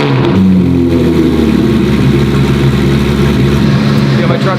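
A car engine catches and settles into a loud, close idle, a steady low rumble continuing with a slight unevenness and no clear speech.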